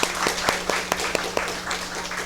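Scattered, uneven claps from a small group at a university council meeting, a few sharp hand claps standing out over a steady low room hum.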